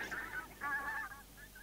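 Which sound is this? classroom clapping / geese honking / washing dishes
geese honking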